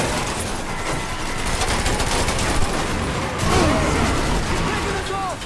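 Gunfire in Mafia III, a dense run of shots and bursts spread through the whole stretch, loud and continuous, with a voice speaking over it.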